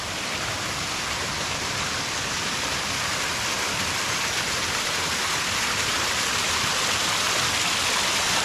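A man-made waterfall at the Durano Eco Farm spring resort in Carmen, Cebu, a steady, dense rushing roar of falling water that stays constant and loud throughout with no pauses.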